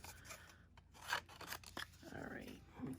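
Cardstock pieces being trimmed for a handmade card, quiet close rasping and rubbing strokes from a paper trimmer blade, several short passes in a row.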